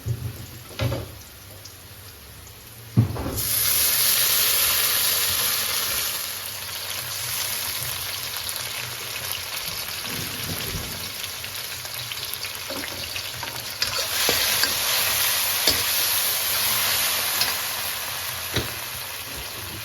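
Tomatoes tipped into browned onions frying in a pan for aloo gobi, with a sudden loud burst of sizzling that settles into a steady crackling hiss, punctuated by occasional stirring knocks.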